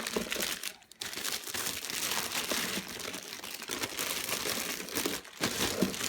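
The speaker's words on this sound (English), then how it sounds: "Okay, take the plastic off." Plastic wrapping is pulled off a newly unboxed bird feeder, giving a close, continuous crinkling and rustling that runs the whole time with brief pauses.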